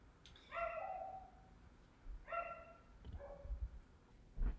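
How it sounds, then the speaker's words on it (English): A dog gives three or four short whining barks and yelps, close but fairly quiet, in bursts separated by short pauses against a quiet room. "This dog is trying to bark."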